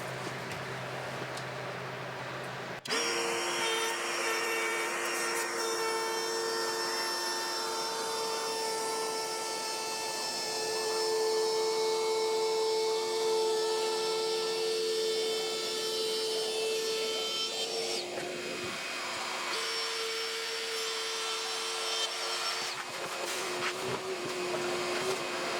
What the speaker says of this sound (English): we're going to go ahead and router the edges so it's nice and smooth